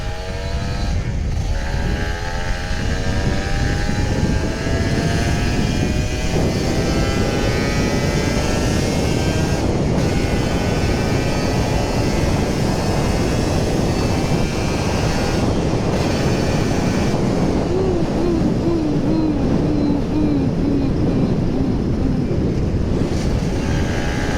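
A Kawasaki Ninja RR 150 two-stroke motorcycle on a morning ride, engine droning continuously with rising and falling revs through gear changes, heavy wind rush over the microphone throughout.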